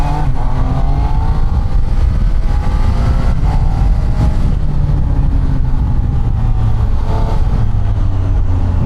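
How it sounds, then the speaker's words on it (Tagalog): Triumph Tiger 800 three-cylinder motorcycle, 113 horsepower, engine and exhaust running steadily at close range, a loud continuous drone with rising and falling pitch as it revs and pulls along a road, no talking. "Ang bait pa ng exhaust."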